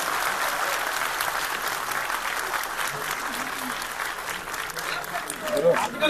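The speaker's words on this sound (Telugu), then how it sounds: "మీకు టీజర్ ఎలా అనిపించిందో క్లాప్స్ తో నాకు చెప్పగలరు?" An audience at a film teaser launch event claps continuously, a dense wash of applause with a slight swell near the end.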